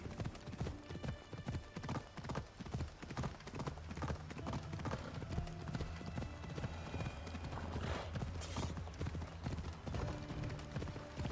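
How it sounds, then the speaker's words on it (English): Horse hooves in the game Assassin's Creed Odyssey beat a rapid, steady clip-clop rhythm throughout, clear and continuous with no talk. "I really thought that the horse was gonna go into the water."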